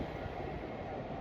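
Two coupled Great Western Railway 5-car IET trains pass through a station on the Great Western Main Line, making a brief, steady low rumble and roar with no break.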